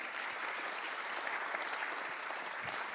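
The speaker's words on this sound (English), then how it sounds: "Let's just give Sophia another round of applause." Congregation applause inside Christ Church, Beckenham, a sustained even patter of many hands clapping for the full length, fairly distant and without talk.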